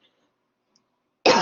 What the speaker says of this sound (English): I have to cough real quick, 1 second.